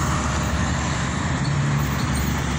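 Heavy trucks and cars rumbling across a highway near a pedestrian bridge in Tonalá, Jalisco, Mexico, a dense continuous roar of close passing traffic with deep engine drone.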